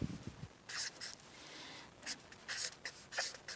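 Pen writing on paper, close and clear, in several bursts of scratchy strokes separated by short pauses.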